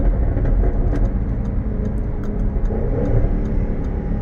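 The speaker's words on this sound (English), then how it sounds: "You can hear the crackles from the exhaust." A 2015 Jaguar F-Type V8 S engine rumbles loudly and steadily while sharp exhaust pops and crackles break through at irregular intervals.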